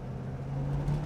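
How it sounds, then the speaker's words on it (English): A 1973 Pontiac Firebird with a 455 engine pulls away in first gear, its steady low exhaust drone holding close and even through the whole short stretch, no voices over it. "Get this thing in first gear and we'll go through the gears again."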